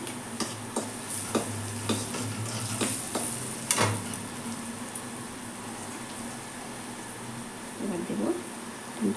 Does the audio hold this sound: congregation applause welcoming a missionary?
no